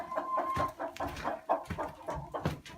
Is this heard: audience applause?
no